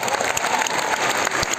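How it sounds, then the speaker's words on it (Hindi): A college event crowd applauds comedian Krishna, brisk, dense clapping from many hands, loud and steady over the short stretch. "तो एक बार मेरे दोस्त कृष्णा के लिए जरा तालियां बजा दें।"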